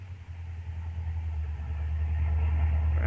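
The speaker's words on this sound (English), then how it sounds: "Have to pull the car a bit off the road," A car pulls a bit off the road to park in an old radio drama, its engine a steady low rumble and idle throughout, swelling slightly louder in the last second, with no one speaking.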